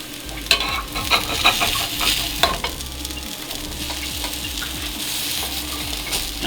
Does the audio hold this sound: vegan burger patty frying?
yes